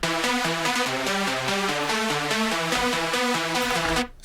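A dry electronic synth chorus with no reverb or delay plays a steady, repeating stepped melody at even volume, ending abruptly at the close with no lingering tail.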